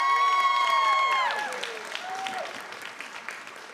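At a school board meeting, the audience applauds and cheers for someone speaker. Dense clapping is loudest at the start, with a few tonal whistle-like sounds, then thins and fades over a few seconds.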